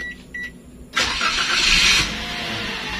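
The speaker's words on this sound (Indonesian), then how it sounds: "Maka mesin akan menyala." A Toyota Calya's push-button engine starts with a sudden loud roar after a couple of soft beeps, then settles into a steady idle.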